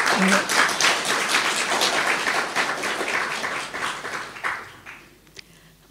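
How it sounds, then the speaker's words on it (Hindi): An audience in a Delhi gathering claps loudly in a dense, continuous burst of applause that fades out over the last second. "आपने लिए जोर से ताली बजाए"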